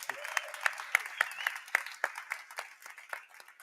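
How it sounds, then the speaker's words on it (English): An audience at a Chalmers Ventures investor event at Nasdaq gives a round of applause, with scattered individual claps standing out over a steady wash of clapping that carries on throughout. "Give me a round of applause."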